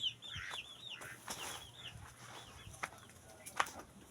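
Hen with her chicks outdoors, a series of soft clucks and high peeping chirps close by, scattered irregularly with faint background noise.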